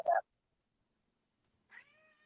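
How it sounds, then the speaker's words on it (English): A cat meows twice: a short, sharp cry at the start, then a longer, drawn-out meow after a silent pause, both fairly close. "Oh my god, this cat."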